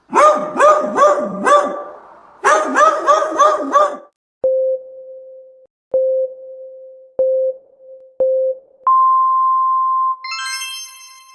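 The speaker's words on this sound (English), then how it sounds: "A dog. Everyone got that one." A dog barks in two quick bursts of several sharp barks each, followed by a series of beeping tones and a rising chime.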